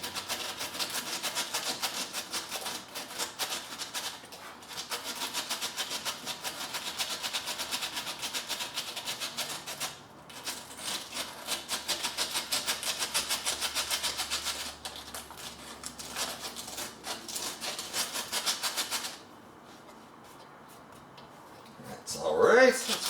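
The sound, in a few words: sanding a guitar with 60 grit sandpaper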